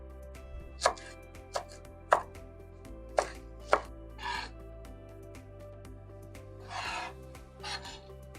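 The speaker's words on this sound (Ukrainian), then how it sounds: "огірки можна натирати на крупній терці" Cucumbers rubbed on a coarse grater for solyanka soup: a series of sharp, close scraping strokes at an uneven pace, with softer rasping passes near the end.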